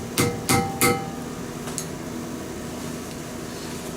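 Three sharp hammer blows drive a nail into a drone battery, evenly spaced and close, followed by a faint tick and a steady low hum.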